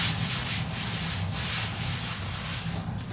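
Steady, close rubbing of 2000-grit sandpaper over a surface being smoothed, making a continuous soft abrasive hiss in back-and-forth strokes without any talking.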